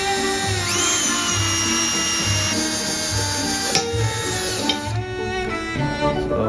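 A power drill bores into metal for a campfire water pump build, the motor whining at a steady pitch with a rising squeal as the bit bites, close and loud, with scraping tool clatter near the end.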